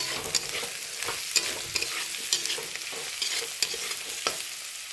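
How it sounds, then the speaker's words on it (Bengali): Ground cumin, turmeric and chili powder fry in hot oil while being stirred, giving a steady sizzle broken by repeated sharp scrapes and taps of the spoon against the pan. "এবার দেবো লঙ্কার গুঁড়ো। ভালো করে একটু ভেজে নেব।"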